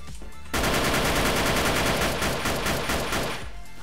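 An automatic rifle in a shooting video game fires one rapid sustained burst of about three seconds, loud and close, with shots in quick even succession that taper off at the end.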